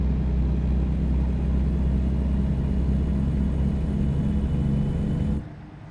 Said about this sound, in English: I love how there's like machinery sounds, but there's nobody there.